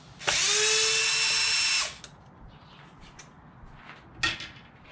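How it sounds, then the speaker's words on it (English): A handheld power drill runs in one sustained burst of about a second and a half while removing throttle linkage bolts on a Losi 5ive T RC truck, followed by faint handling clatter and a brief knock. "I'm taking out 3 bolts for the throttle linkage right here"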